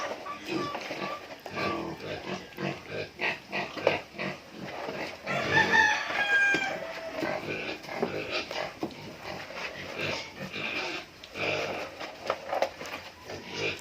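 Pet pigs on a farm in Bicol eat noisily, with steady snuffling, chewing and rooting at a trough, while a rooster crows and chickens cluck in the background.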